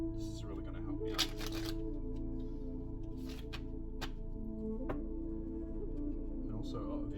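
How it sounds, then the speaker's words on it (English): Tarot cards being shuffled with soft riffling, fluttering bursts over a steady low background hum, close by. "I just want to do one more shuffle."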